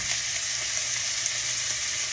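Beef strips for stroganoff fry on high heat in a pan, giving a steady, close, continuous sizzle with faint crackles throughout and no talking.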